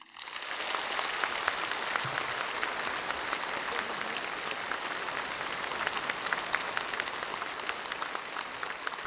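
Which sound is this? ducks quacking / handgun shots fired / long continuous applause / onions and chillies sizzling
long continuous applause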